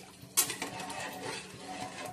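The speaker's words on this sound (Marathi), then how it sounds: "असं गरा गरा हलवून घ्यायचं." Moong dal khichdi being stirred in a pot, a sharp metallic clink of a spoon against the pot followed by soft, continuous scraping and stirring at close range.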